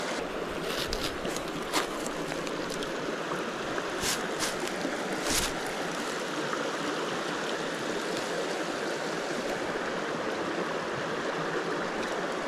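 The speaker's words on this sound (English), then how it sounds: "Just found this tiny little creek on the way back." A small Appalachian mountain trout creek flows nearby in a steady, even rush of water that holds without a break, with no voices.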